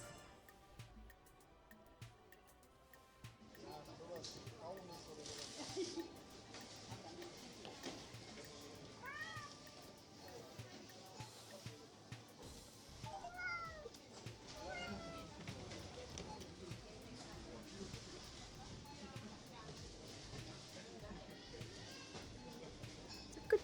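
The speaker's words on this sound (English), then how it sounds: "Something is meowing over here." A tiny cat meows several times on a Berlin street, its small calls rising over outdoor traffic hum and people chatting nearby.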